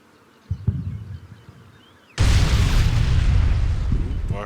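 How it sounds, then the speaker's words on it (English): A loud explosion in the Combat Mission war game, a sudden broadband blast that follows a few quieter thumps and keeps rumbling for a couple of seconds. "I heard an explosion."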